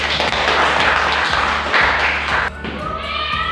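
A classroom of students clapping together, a dense, lively patter of hands filling most of the moment before thinning out, with a musical backing underneath.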